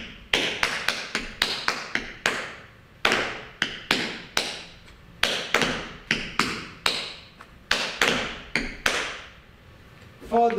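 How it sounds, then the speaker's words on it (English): Tap dance shoes on a hard floor playing repeated riff, heel, step and touch patterns, heard as crisp, close, rhythmic clusters of taps and heel thumps in a steady phrase, with a voice calling along underneath. "Heel step touch, step riff, heel step touch, step riff, heel step, and we have finished."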